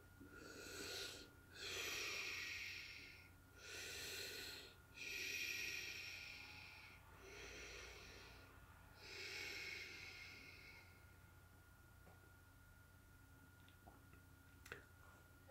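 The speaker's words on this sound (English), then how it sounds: "Now take 3 deep breaths." Several slow, deep breaths are taken one after another, each a soft airy rush close to the microphone in a quiet room, followed by faint ticks.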